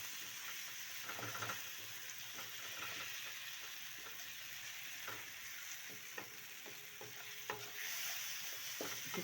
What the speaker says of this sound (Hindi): मसाले को जो है ना इसके अंदर फ्राई करना है ताकि मसाला अच्छे से मिक्स हो जाए।